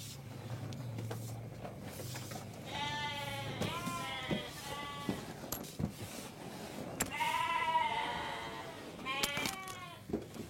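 Sheep bleat repeatedly on a village livestock farm, several harmonic calls arriving in bursts, some overlapping, fairly close and clear over a low background hum.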